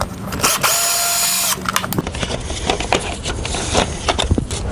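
A power tool bolting a radiator guard onto a 2017 Husqvarna FE501 motorcycle, a loud close whirring burst followed by clicking and rattling as the tool and parts are handled, with no talking.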